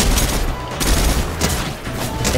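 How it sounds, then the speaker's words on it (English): Rapid video game gunfire in a shootout, dense bursts of shots and booms crackling continuously at close range, loud and unbroken across the whole stretch with no talk over it. "I'm being shot from two sides."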